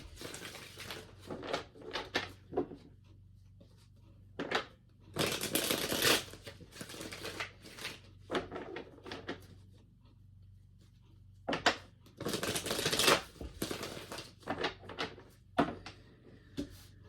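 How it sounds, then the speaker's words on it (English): Tarot cards being shuffled in several separate bursts of riffling and snapping, close by, with quiet pauses between the shuffles. "Let's do 3 shuffles just to kind of orient all the cards."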